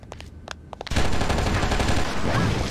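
SMG and plasma gun fire in the video game Oni opens with a few separate sharp shots, then turns into a loud, continuous burst of rapid automatic fire.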